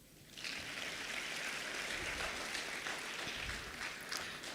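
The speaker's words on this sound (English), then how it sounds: "give yourself a round of applause" An audience at a live talk in South Africa breaks into applause, a dense, sustained wash of clapping that holds steady for several seconds.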